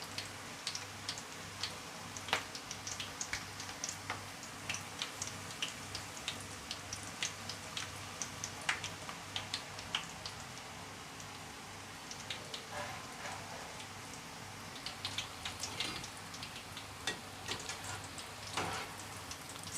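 Onion bhajis fry in oil over a low gas flame with a soft, steady crackle of small ticks and pops, quiet and close, with no talking.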